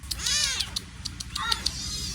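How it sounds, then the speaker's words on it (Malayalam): Kittens meow repeatedly in short, high, wavering cries, fairly close, one call after another with brief pauses over a steady low background hum. "റബ്ബേ ഫുൾ പൂച്ചക്കുട്ടികളവിടെ"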